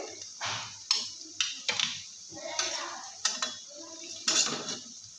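Fried yam (ol) pakoras lifted one by one from a pan of oil, sharp metallic clinks and taps of a spatula against the pan over a faint sizzle.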